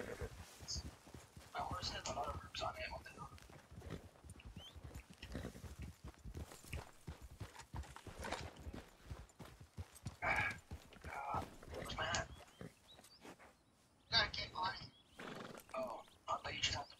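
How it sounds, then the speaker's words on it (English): Horse hooves clip-clop and a horse whinnies in the Red Dead Online video game, the footfalls irregular and moderately close, with someone talking over them throughout. "I gotta get rid of you, horse."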